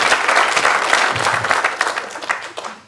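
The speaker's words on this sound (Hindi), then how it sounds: "तालियां अनीता जी के लिए" Studio audience applauding a participant on a Hindi game show, steady dense clapping that carries evenly through the clip and tails off at the end.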